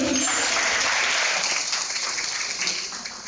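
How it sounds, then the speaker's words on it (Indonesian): A dense wash of audience applause, loud and steady, gradually thinning toward the end. "Oke, tepuk tangan lagi Pak Bayu."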